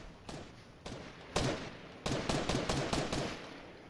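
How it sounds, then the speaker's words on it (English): Gunshots in Fortnite crack out in about eight separate sharp reports, first spaced apart and then coming in a quicker cluster, close and fairly loud. "Why are you shooting everything?"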